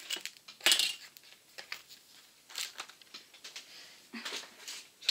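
Scissors cutting craft paper for a winter-themed album, with a few short snips and rustles separated by quiet gaps, close and fairly soft, no voices.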